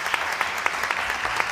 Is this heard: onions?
no